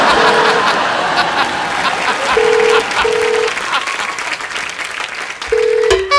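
A telephone is dialed again on a comedy show stage. A few short keypad tones beep at intervals under loud audience applause and laughter.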